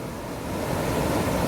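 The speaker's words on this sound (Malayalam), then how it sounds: "മനോഹരമായിട്ടുള്ള ഒരു വെള്ളച്ചാട്ടം" A waterfall at the Poonoor Mukkai mini dam gives a dense, steady roar of rushing water, loud and unbroken throughout.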